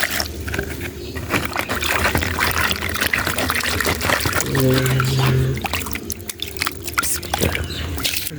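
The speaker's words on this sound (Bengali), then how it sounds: "পাখিরা পানি খাওয়ার জন্য আমি এখন পানি দিয়ে দিচ্ছি" Water poured out for birds to drink, a continuous splashing and trickling stream up close for several seconds, with a brief tonal hum partway through and ambient outdoor noise.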